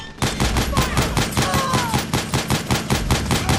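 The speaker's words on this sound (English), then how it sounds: "Some mortar up here and a machine gun if you feel like it." Mounted machine gun in Metal Gear Solid 4 rattles off a steady, rapid stream of loud, close shots for several seconds, each report evenly spaced, with no speech.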